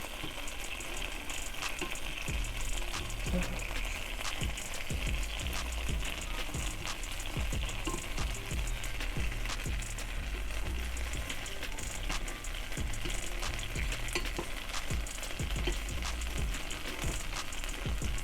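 A blueberry cinnamon pancake fries in butter in a pan, giving off a steady, close sizzle. Small crackles and pops run through it for the whole stretch, with no one talking.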